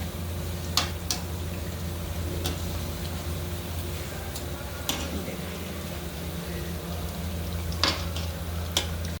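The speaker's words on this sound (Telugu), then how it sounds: "ఇలా బ్రౌన్ కలర్ వచ్చే వరకు వేయించుకోవాలండి." Egg bondas frying gently in oil over a low flame, a steady soft bubbling hiss with occasional faint ticks and light clinks throughout.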